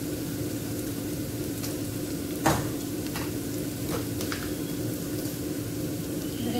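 Kashmiri red chili powder, coriander powder and garam masala roast in hot oil for dal makhani, giving a steady close sizzle with a sharp clack and a few light stirring scrapes.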